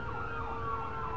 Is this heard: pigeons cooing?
no